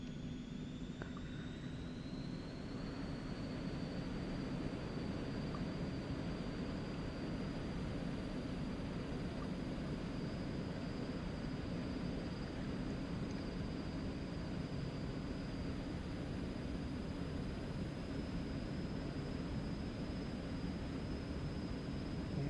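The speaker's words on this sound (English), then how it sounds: "And we're going down the runway." Steady engine roar and rumble of an Eclipse 550 jet rolling down the runway in X-Plane 11 at Denver, with a high whine holding constant above a broad wash of noise, unbroken and even for the whole stretch.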